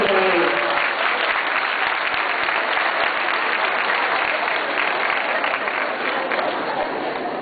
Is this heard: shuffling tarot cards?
no